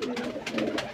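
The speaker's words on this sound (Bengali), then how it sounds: "দেখুন এই যে নর পায়রাটা আর এই যে মাদি পায়রাটা" Male and female pigeons cooing close by in soft, repeated low calls over about a second, with no voices.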